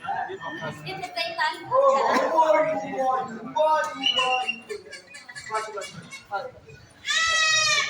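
Goats bleating at a goat offering site of the Baba Balak Nath temple in Shahtalai. People talk throughout, and one loud, wavering bleat rises near the end.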